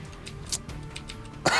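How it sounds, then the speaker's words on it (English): A man coughs during a Binding of Isaac Rebirth playthrough, a brief throaty cough near the end of a short stretch of quiet background game audio. "excuse me, sorry for coughing."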